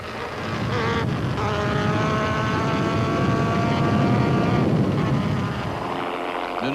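A Volkswagen rally car roars along a stage with its engine held at high revs, a loud and sustained harmonic drone that eases off near the end, with no talking.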